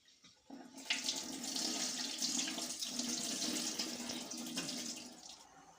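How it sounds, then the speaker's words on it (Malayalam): Water runs steadily from a tap into a vessel to wash rice for several seconds, a close, even rushing splash that stops near the end. "നന്നായി കഴുകിയിട്ട് നമ്മൾ വെള്ളം ഒഴിച്ചിടും കുറച്ച് നേരം"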